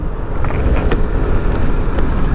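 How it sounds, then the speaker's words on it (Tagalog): Strong wind buffets the microphone during a ride near Mayon Skyline View Deck in Bicol, a constant low, rumbling roar, loud and close, with faint engine-like noise underneath. "Medyo malakas na yung hangin."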